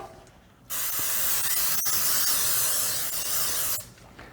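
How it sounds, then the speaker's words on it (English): A steady aerosol hiss of baking spray into a cake pan sprays continuously for about three seconds, close by, then cuts off abruptly. "I'm going to spray my pan with the baking spray."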